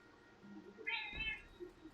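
A single cat meows nearby, a short rising and falling cry against a quiet room.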